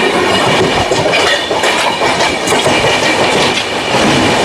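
A moving passenger train leaving Howrah rattles and clatters steadily along the tracks, heard loud and close from on board as a dense continuous rumble with rhythmic wheel clacks and no talking.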